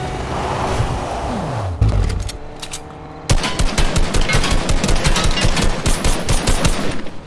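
Gunfire in the game Fortnite crackles around a Ferrari 488 Pista, first mixed with revving car engine, then a rapid, loud run of automatic shots in quick bursts.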